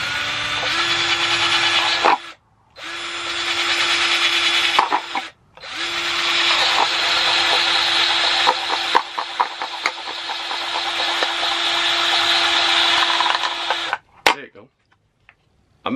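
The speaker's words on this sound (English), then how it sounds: "make some holes in the bottom of the cup" A power drill bores holes through the bottom of a plastic cup for a garden pest trap, whining loudly and steadily in three long bursts separated by short pauses, close up, ending with a clunk.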